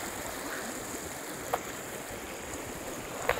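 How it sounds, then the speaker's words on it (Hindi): Mountain water in Kashmir rushes downhill as a steady, broad hiss of flowing water that fills the scene, with a couple of faint brief knocks and no talking. "ये देखो ऊपर से पानी आ रहा है पहाड़ों के नीचे नीचे"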